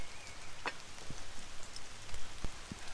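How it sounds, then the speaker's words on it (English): Rain falls faintly on a woodland camp under silver birch, a soft steady patter with a few distinct drops tapping nearby, no voices. "And yes, it is getting rained on."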